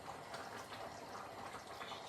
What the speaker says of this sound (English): now I'm going to add some of the hot liquid from the sauce